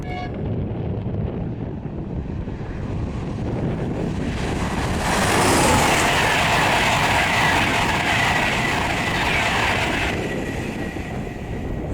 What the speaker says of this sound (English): That's another one of LNER's 225, Sir Bobby Robson.